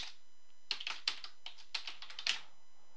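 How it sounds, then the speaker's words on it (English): Typing on a computer keyboard while entering account details, a quick irregular run of crisp key clicks after a short pause, close and fairly quiet, no talk. "I didn't mean to type some person, I meant to type some strange person"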